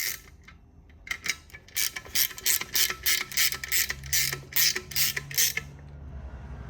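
A swing-away bike rack clamp is cranked down onto a vehicle's bottom tube with a ratchet, giving a rapid series of sharp metallic clicks in steady rhythm, close and clear, with no talking.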